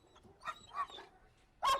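A police dog on duty in the metro gives a few faint, short barks and yips, spaced apart, with one sharper bark near the end against quiet background.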